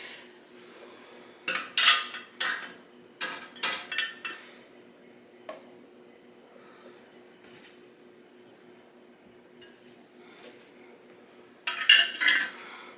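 Glass canning jars of bone broth lifted from a hot canner and set down on a kitchen counter, giving a few close, sharp clinks and knocks in short clusters with quiet pauses between.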